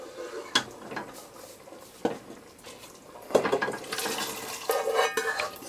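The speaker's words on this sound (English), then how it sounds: "So I'm gonna cover the pot and let it boil." Clanks of pots and utensils sound in a kitchen as a cooking pot is covered with its lid while making Guyanese cook-up rice with lamb. Several sharp metallic knocks and scrapes ring out near and fairly quiet, with no talking.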